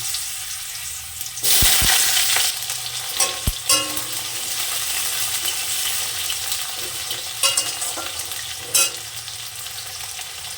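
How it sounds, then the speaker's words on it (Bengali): Potatoes fry in hot oil with cumin seeds, a loud burst of sizzle as they go in, then a steady crackling hiss with occasional stirring clatter, close and continuous. "আলু কটা একটু ভেজে নেব।"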